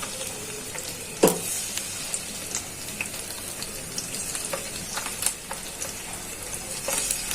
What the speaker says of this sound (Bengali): একে একে সবগুলা মাছ বেজে নিই।